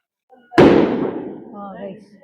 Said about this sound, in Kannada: ಪಟಾಕಿ ಎಲ್ಲ ಹೊಡಿತಾ ಇದ್ದಾರೆ